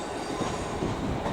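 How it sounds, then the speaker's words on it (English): ScotRail class 380 unit 380113 arriving at Edinburgh Waverley station, a steady rumble of rolling wheels and carriage noise with faint wheel squeal, continuous and fairly close, with no voices. "the next train to come in is a Scotrail service from Edinburgh."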